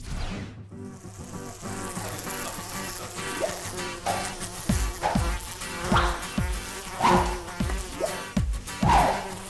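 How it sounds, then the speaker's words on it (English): Houseflies buzz in a room full of flies, a dense, steady droning hum with repeated swelling passes close by, unbroken by speech. "Yes, this is a room full of flies"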